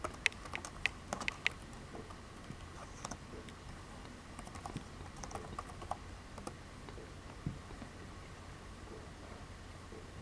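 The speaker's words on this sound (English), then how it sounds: "I think I typed that in wrong" Clicky keyboard typing, close and fairly quiet, in irregular bursts of keystrokes with short pauses, over a faint background hiss.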